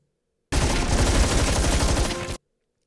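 Atlas units and a sentry turret in the video game Stormgate unleash a dense, loud barrage of gunfire and explosions that roars for about two seconds, then cuts off abruptly into silence.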